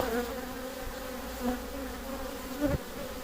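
Honeybees buzz around the entrance of a weak, queenless hive, a steady close drone of many wings with a few individual bees swelling louder as they pass near.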